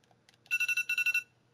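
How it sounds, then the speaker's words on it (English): A timer alarm goes off indoors with a quick series of about eight sharp electronic beeps in rapid rhythm, bright and moderately loud against near silence. "that's my timer telling me to stop recording"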